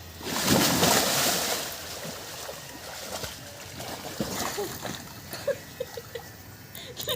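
Taro (kochu) being washed in water outdoors, with broad splashing and swishing that is loudest early on, then settles into intermittent sloshes and drips.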